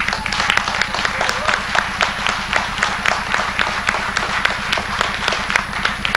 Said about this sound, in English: Elvis Presley a big round of applause